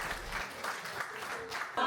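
Audience applause fills a pre-New Year concert at the Ozurgeti municipal music school, a steady wash of many hands clapping close and fairly loud for the whole stretch, with a brief swell at the very end.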